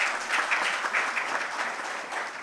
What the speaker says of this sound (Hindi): आप मन भी ताली बजा के बधाई दे